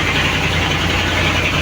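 A fishing boat's diesel engine, one of its engines, runs at a steady low rumble, loud and continuous with no voices over it.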